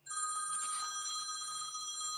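A phone rings with a bright, steady electronic trill that starts abruptly and keeps sounding for about two seconds, clear and moderately loud in a quiet room, with no talk over it.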